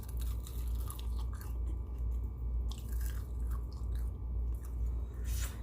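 Close-up chewing of crispy fried chicken wings made with arrowroot starch, a continuous run of crunchy bites and mastication with no talk.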